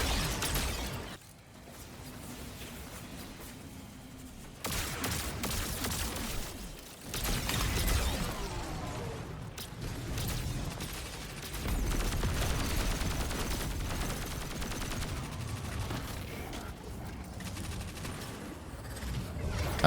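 Video game gunfire while shooting fuses to blow them up, dense bursts of rapid shots and crackling blasts in a busy, continuous battle mix.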